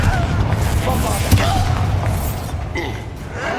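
The Confringo explosion spell going off in Hogwarts Legacy, heard as a dense boom under busy game sound with a thump near the middle, while a voice speaks over it.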